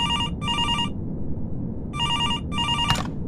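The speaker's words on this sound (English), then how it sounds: "so I was happy when the phone finally rang" A telephone rings with two pairs of electronic trilling bursts separated by a pause, loud and close over a low background hum.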